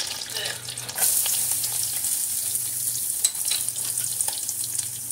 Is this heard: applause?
no